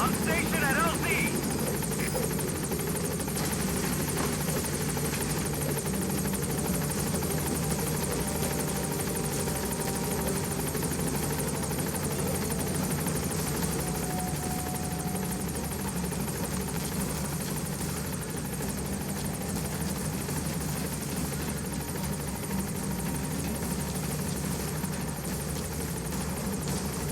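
A support helicopter in Metal Gear Solid V: The Phantom Pain hovers with a steady, loud rotor drone and whine that holds without a break, with game sounds layered over it.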